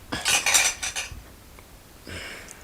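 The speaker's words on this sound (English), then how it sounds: "Let me have a spoon." A metal spoon clinks against a bowl of guacamole made with avocado, onion, tomato and garlic, several quick bright taps close by, then a softer scrape.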